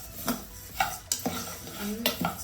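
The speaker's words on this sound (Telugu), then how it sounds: "ఫస్ట్ ధనాలు మంచిగా బ్రౌన్ కలర్ వచ్చాక వేపుకోవాలి" Coriander seeds are stirred in a hot pan on a gas stove, with close scraping and clinking from a spoon against the pan in quick bursts over a faint background sizzle.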